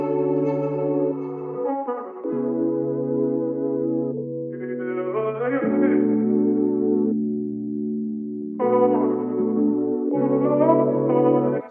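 Chopped R&B vocal sample, sped up and pitched down, playing as a sequence of sustained sung notes with smooth pitch shifts and echoing effects, pausing briefly before the phrase resumes.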